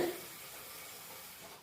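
Water splashes into a pan of chicken for cooking in a short, steady pour that fades after a moment.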